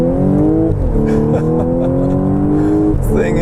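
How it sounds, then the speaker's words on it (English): A 2014 Audi S4 accelerates on a highway, its engine note climbing steadily in pitch, dipping briefly at a shift and rising again, loud and close from inside the car, with talk underneath. "It is just so quick to accelerate when you put your foot down."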